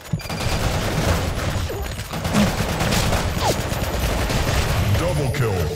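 Rapid gunfire from the online shooter BlackShot, dense bursts of automatic shots running nearly continuously and loud, with a few sharper single reports layered in the mix.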